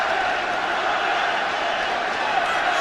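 Crowd noise rolls through Old Trafford during a Manchester United versus Bayern Munich Champions League group stage match, a steady, broad roar under a commentator speaking throughout.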